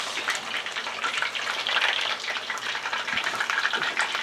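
Loud, dense crackling and bubbling of chicken wings deep frying in hot oil, continuous and close, with no voices.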